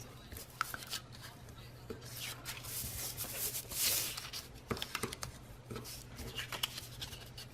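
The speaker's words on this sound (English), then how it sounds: "So I'm just now going to fold those flaps in." Scored paper flaps are folded in for an envelope-punch-board gift box: quiet, close rustling and crisp creasing taps, scattered irregularly with brief sharp snaps.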